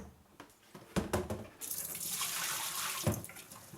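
Soaking water pours from plastic litter boxes into a sink or tub after a few handling knocks, a steady close gush that continues to the end.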